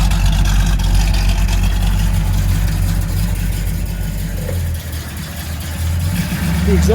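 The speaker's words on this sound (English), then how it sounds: "The exhaust sounds great." A crate small block V8 in a 1970 Camaro Z28 tribute with a turbo 350 transmission idles through its exhaust, a steady, loud, deep rumble that dips briefly near the end before returning.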